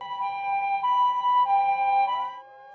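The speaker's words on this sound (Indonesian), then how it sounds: "mobil ambulan tersebut sirinenya berbunyi dengan sendirinya" Ambulance siren going off on its own in a village at night, a steady electronic tone held at close range that shifts pitch near the end, heard alone.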